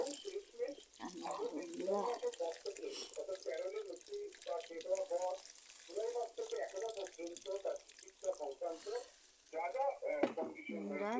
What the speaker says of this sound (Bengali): জল ঢেলে দিলাম থালাটা চাপা দিয়ে দেবো